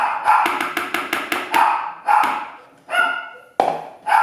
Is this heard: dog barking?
yes